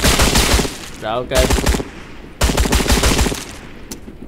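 Rapid bursts of gunfire from a first-person shooting segment of the Trans-Siberian Railway Simulator game, two loud dense volleys separated by a brief pause, with a short spoken remark in between.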